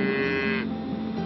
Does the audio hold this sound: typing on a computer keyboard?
no